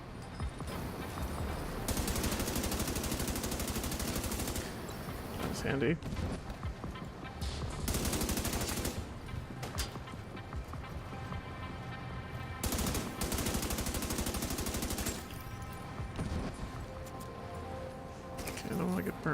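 Automated turret firing in The Division 2 shooter game: several sustained, rattling bursts of rapid gunfire lasting a few seconds each, with quieter gaps between them and someone talking over the action.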